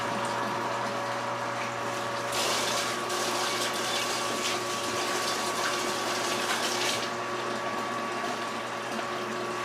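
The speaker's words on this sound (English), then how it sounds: "pump some water in here" An electric pump pushes water into a homebrew pot for brewing red IPA ale, giving a steady, quiet, continuous rush and splash of flowing water over a constant motor hum.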